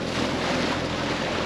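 A sailboat motor sailing at sea on passage to American Samoa, a steady dense roar of wind, water rush and engine drone that holds constant and loud throughout, with no voices.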